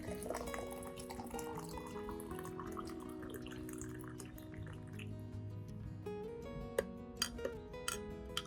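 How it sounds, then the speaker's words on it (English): Boiling water is poured onto a banana fertilizer mixture, a trickling fill with gurgles and bubbling, ending in several sharp drips, quiet and close. "Add 500 milliliters of boiling water."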